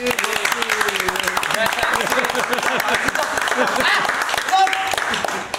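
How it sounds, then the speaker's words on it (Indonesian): An audience applauds for Aloy at a live stream gathering, dense clapping running steadily throughout under a talking voice and crowd noise. "tepuk tangan lu buat Aloy nih"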